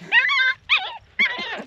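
Disco the dog gives three short, high whimpering yips in quick succession with brief pauses between, close and fairly loud, whiny and pleading in tone.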